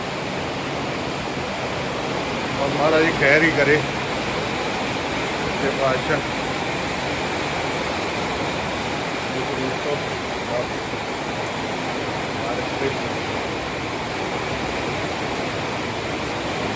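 Rainwater rushes down a hillside after a heavy downpour, a dense, continuous roaring wash of flowing water that holds steady throughout, with a voice talking briefly over it near the start.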